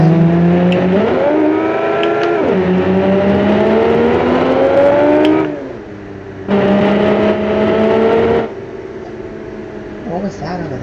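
A race car engine in the BeamNG video game drones and revs, with pitch rising and falling through gear changes. It drops away briefly and then returns, and a player talks over it.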